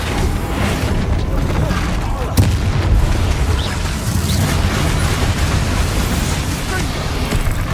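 Spell explosions from Bombarda and Confringo go off in Hogwarts Legacy, a dense run of booms and crashes layered over continuous game noise, with one sharper blast near the middle. A voice shouts spell names over the action throughout.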